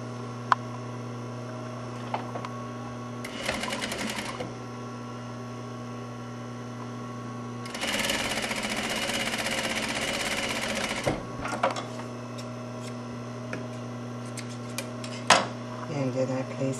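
An electric sewing machine stitching the sleeve hem of a doll dress, running in two bursts over a steady mains hum, with small ticks and handling clicks in between.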